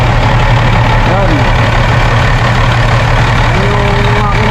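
Engine of a parked vehicle idling steadily nearby, a continuous low rumble with a constant hum and faint mechanical texture throughout, with no talking.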